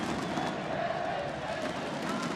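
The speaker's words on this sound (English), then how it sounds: "the crowd is real insane, so I think we're going to cut it short there" A packed esports arena crowd at the 2017 Mid-Season Invitational roars continuously, a loud, dense wall of cheering and shouting with no break.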